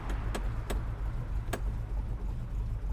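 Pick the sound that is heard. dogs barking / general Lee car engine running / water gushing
general Lee car engine running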